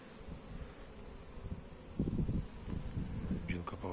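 Honeybees buzz around their hives on a spring day, a soft constant hum with wind noise and rustling, while someone talks quietly over it.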